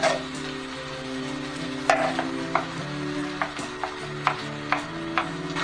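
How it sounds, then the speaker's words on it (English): Stewed tomatoes going into a simmering homemade spaghetti sauce, with a low steady bubbling bed broken by several sharp, close clicks and knocks from a utensil or stirrer against the pot. "Let's go ahead and put in the stewed tomatoes."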